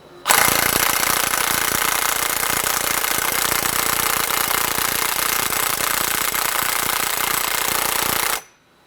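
Impact wrench fitted with a 3/4 inch socket rattling continuously for about eight seconds on a Ski-Doo 850 Summit snowmobile, loud and close, cutting off abruptly.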